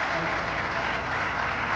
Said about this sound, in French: donner l'applaudissement pour les vainqueurs de ce tournoi